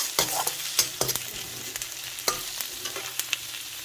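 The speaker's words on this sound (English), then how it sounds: "the onions have nicely turned slight brown and it has reduced in size" Onions fry in a pan as a soft, quiet sizzle, broken by frequent light scrapes and taps of a spoon stirring against the metal. Nobody speaks.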